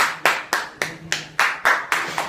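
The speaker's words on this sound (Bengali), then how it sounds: "গাজী আপনার দাঁড়িয়ে পেয়ে জন্য জোরে হাততালি দিই" Hands clap in a steady, deliberate rhythm, about nine sharp claps spaced roughly a quarter second apart, close and clear with nothing else around them.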